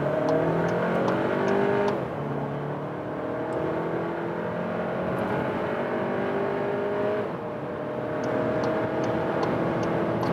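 Volkswagen T-Roc with a 190 hp engine accelerating hard from about 40 km/h, its engine note climbing steadily through the gears with brief dips at each shift, loud and continuous from inside the car.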